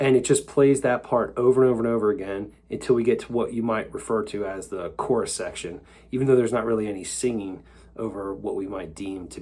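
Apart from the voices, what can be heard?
None of the usual background noises is heard.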